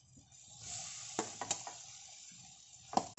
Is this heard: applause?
no